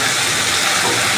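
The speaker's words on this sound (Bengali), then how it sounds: "দেখেন আমি করলা ভাজি করছি।" Bitter gourd (karela) fries in a pan with a dense, steady sizzling hiss, close and constant throughout, with no voices.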